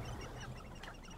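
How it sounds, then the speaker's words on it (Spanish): Chickens clucking in Hogwarts Legacy, a brief faint burst of fowl calls set in an ambient game backdrop. "vale, son como gallinas"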